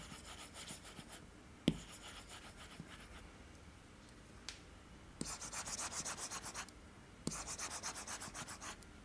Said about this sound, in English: You can clearly hear the extra texture with the Wacom pen on the Wacom display.